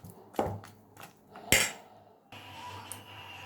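A wok is set down on a stove while preparing mutton kosha, a few sharp metallic knocks and clanks, then a low steady background hum.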